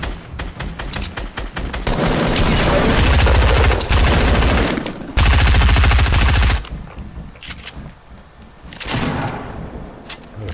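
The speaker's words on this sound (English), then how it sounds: "Oh, they're shooting at me." Heavy gunfire in Fortnite rattles in long, loud bursts, overlapping sprays of automatic shots close by with brief lulls between volleys.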